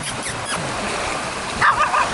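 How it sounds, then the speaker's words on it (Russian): A dog gives a couple of short barks near the end, over steady background noise of calm sea or wind on Silver Beach, Koh Samui. "И вот собачка"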